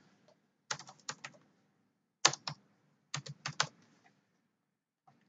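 Fingers type on a computer keyboard in several short clustered bursts of crisp key clicks, separated by pauses, close and clear in a quiet room.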